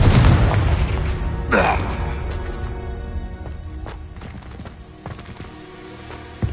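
Confringo spell explosion in the Hogwarts Legacy video game, a loud boom at the start followed by a sharp burst and whooshing sweep, then scattered fainter thuds and clatters fading out.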